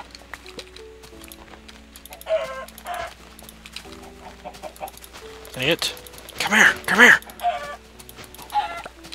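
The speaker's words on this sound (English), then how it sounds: "Oh my goodness, look at all these chickens!" Chickens in the Minecraft video game cluck in short bursts, some louder and nearer than others, while a player speaks excitedly over them.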